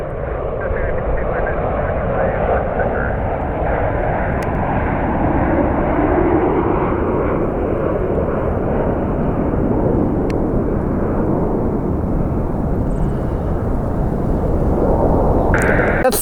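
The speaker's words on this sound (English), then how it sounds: "787 Dreamliner." An Etihad Boeing 787 Dreamliner jet passes at Washington Dulles, a loud, continuous roaring engine rumble that swells and holds throughout, with a person talking over it.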